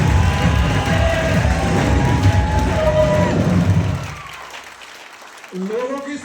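An audience at a recognition ceremony breaks into loud, dense applause with some cheering for about four seconds, then it fades and a voice begins speaking.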